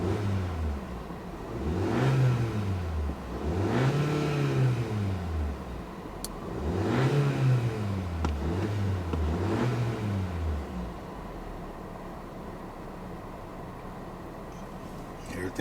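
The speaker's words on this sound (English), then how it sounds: "Let's give it some revs" A 2020 Hyundai Sonata 1.6T turbo engine fitted with a cold air intake revs up and settles back several times in a row, close and loud, each swell rising and falling in pitch like a rhythmic wave.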